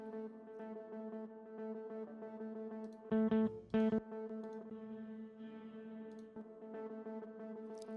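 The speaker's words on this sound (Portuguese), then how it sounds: "Esse é o delay dessa guitarra." Electric guitar through a delay effect, sustained notes ringing with repeating echoes, with two louder bursts of strummed chords partway through, played alone at moderate level.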